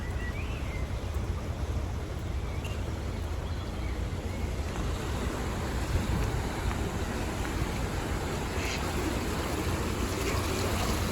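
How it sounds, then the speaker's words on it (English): Water drains through the gates of an emptying canal lock as a steady, rushing wash under gusty wind noise, continuous and moderately close throughout, with no talking. "There's the lock still emptying. Leaks a little bit at the other end, but not too much."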